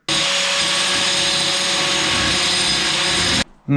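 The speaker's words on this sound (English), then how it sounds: "I've just gone down and bought a diamond tile blade for the grinder" An angle grinder fitted with a diamond tile blade cuts through tile with a loud, close, unbroken grinding whine. It stops abruptly near the end, leaving a brief quieter rustle.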